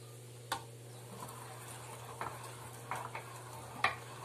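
Seasoned filling for stuffed pork tripe sautés in a pan, a soft steady sizzle broken by a few sharp scrapes and clinks of stirring, fairly quiet and close with no talking.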